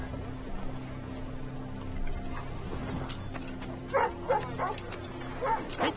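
A dog in Assassin's Creed Rogue gives a quick run of short barks and yips toward the end, over a steady low game ambience with no talking.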